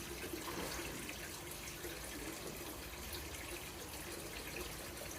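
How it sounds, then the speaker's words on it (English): Water in a koi pond, splashing and churning: a dense, even rush of moving water that fills the whole moment at a steady level, close and continuous with no talking. "I had a splash in the pond."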